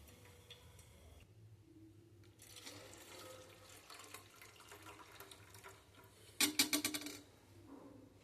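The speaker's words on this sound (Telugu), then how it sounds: "బెల్లం కరిగించిన వాటర్ని ఒక్కసారి వడగొడుతున్నాను" Dissolved jaggery water being strained in a home kitchen: a quiet, continuous trickle of pouring liquid, with a brief burst of sharp clinks near the end.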